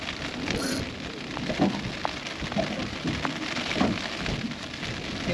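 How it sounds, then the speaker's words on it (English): Heavy rain pours steadily outdoors during a fishing trip, a dense continuous hiss with scattered louder drop impacts, some faint low rumbles and no clear speech. "The rain's just getting worse."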